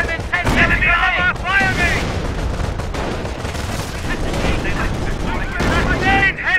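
Battle din from Company of Heroes, a World War II strategy game set during Operation Market Garden: continuous loud gunfire and artillery booms with shouted voices and radio chatter layered over the combat throughout.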